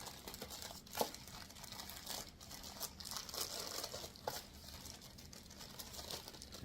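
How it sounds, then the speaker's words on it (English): A stapled plastic bag of parts for a kids' wooden table and chair set being opened, with close, quiet crinkling and rustling plastic and a few sharper tearing crackles. "First, we are going to open a bag of parts"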